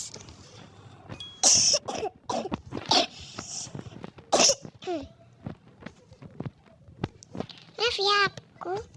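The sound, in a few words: coughing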